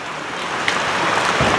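Rain falling steadily in a rural Thai setting, a soft broadband hiss of drops with no pauses, fairly close and alone.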